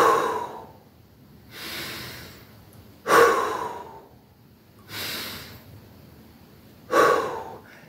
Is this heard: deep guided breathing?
yes